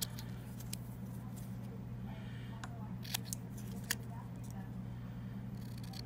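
Scissors trimming paper for a paperclip craft, a few crisp close snips spaced a second or so apart over a steady low hum, with a person talking in between.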